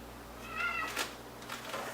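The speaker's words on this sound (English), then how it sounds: "That's my loud cat." A loud house cat gives a drawn-out meow with a rising and falling pitch, followed by a shorter, fainter cry near the end, close to the listener with no talking.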